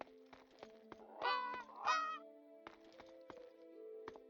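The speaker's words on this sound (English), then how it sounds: "I can't tell if something's trying to kill me or that's just ambient bird." Ambient bird calls in the modded video game Morrowind: two honking, goose-like cries stand out over a faint ticking, clattering game background, with softer tonal calls lingering after.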